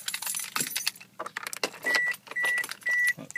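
Car keys jangling and turning in the ignition, followed by a few short bursts of starter and electronic tones, close inside the cabin with no talking.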